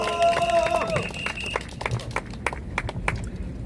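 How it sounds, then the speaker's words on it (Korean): An audience at an outdoor press conference gives scattered, uneven claps that fade as a tonal sound stops at the start, with voices faintly underneath. "여러분 박수 부탁드립니다."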